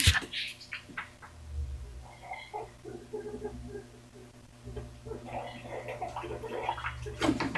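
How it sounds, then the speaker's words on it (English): Water trickles and splashes faintly into a small container at a painting bench for miniature skeletons, short wet bursts with quiet gaps, close by and fairly soft. "I'm going to add just a little bit of water."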